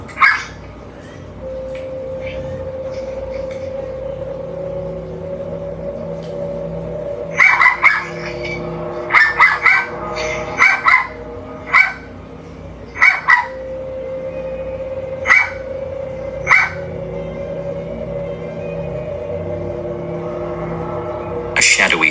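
Dogs picked up by a Ring doorbell camera bark in scattered clusters of short, sharp yaps across the clip, some doubled, with quieter gaps and a constant background hum.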